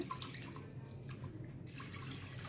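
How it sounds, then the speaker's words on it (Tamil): Toor dal being rinsed in water in a home kitchen, a steady sloshing and trickling wash with faint drips, close and continuous without talk. "எடுத்துகிட்டு அதை நல்லா வாஷ் பண்ணி எடுத்துருங்க"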